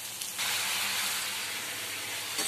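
Ginger-garlic paste and ground spices, including Kashmiri chilli powder, sizzling in hot oil with fried onion and tomato in a frying pan for prawn malai curry; a steady, close hiss with no talk.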